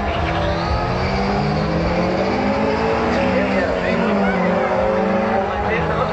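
Drag racing cars, including a Camaro, roar down the track at a Powercruise event, engines screaming loud and continuous with sweeping pitch as they accelerate, over crowd noise.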